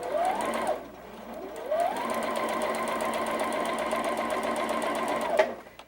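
A sewing machine stitches pieced fabric for a curved braid quilt pattern, running in steady rapid bursts with a short pause and speed changes, close and clear with no talking.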